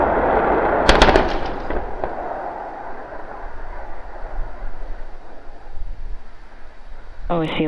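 A SpaceX rocket exploding on landing gives a sharp blast with crackling bursts, then a long roar and rumble that slowly fades, with a brief electronic beeping near the end.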